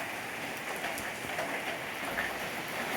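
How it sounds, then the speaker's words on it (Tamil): Heavy rain falls on a jackfruit tree, a dense, even patter with scattered louder drops and no voices. "நல்ல மழையான நல்ல மழை"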